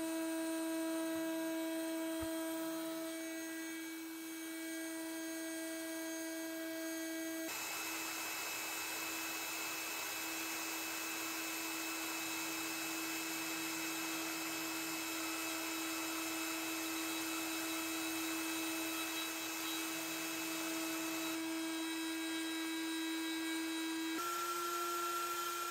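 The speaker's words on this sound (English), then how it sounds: "I continuously adjusted the wood router speed, which is controlled by a knob" Genmitsu 4030 PROVerXL V2 CNC wood router milling with an end mill, a steady high-pitched whine that holds for the whole stretch, shifting pitch a few times as the speed changes, loud and close with no talk.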